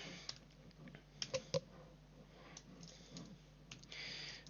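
Quiet typing on a computer keyboard at a streaming desk, a few soft scattered key taps and clicks with one brief cluster of sharper presses, close but faint.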